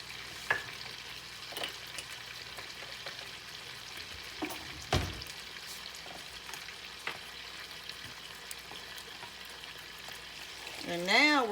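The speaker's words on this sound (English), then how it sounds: "now we're just going to take our pork chops and put down in that sauce and get them good and coated on both sides" Pork chops frying in a pan of lemon cream sauce, a steady close sizzle with occasional stirring clinks and scrapes, a brief burst of louder bubbling at the end.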